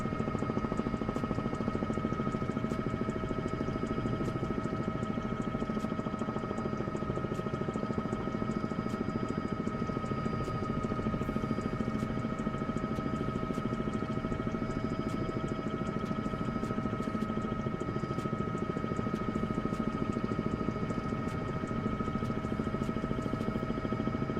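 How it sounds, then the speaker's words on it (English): Helicopter engine and rotor drone holding at a steady, even level for the whole stretch, a continuous mechanical hum with a faint high whine and no voices over it. "you'll just be hearing helicopter sounds for the most part"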